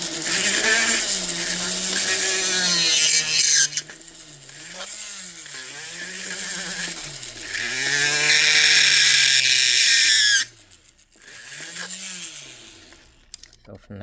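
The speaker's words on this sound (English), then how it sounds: "I switch to this tool, and you can use a Dremel, or you could just continue going with a drill" A rotary tool or drill bores through a small wooden fairy door, its whine rising and falling in pitch over several bursts, loud and close, dropping out briefly near the end.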